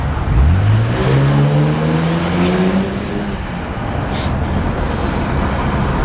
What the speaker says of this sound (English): Nothing beats the sound of a straight 6.